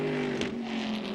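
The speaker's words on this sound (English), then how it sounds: "Distinctive sound, engine note of the Panos as well" A Panoz race car at the Sebring 12 Hours, an American Le Mans Series endurance race, passes with a steady droning engine note with sustained tonal hum, moderately loud and continuous over a brief stretch.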